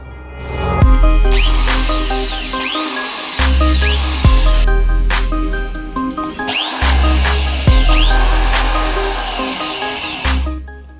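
A Buildskill electric drill machine runs in repeated bursts, each a sharp spin-up to a loud steady whine with pitch sweeps, then cutting off, roughly four test runs close to the microphone.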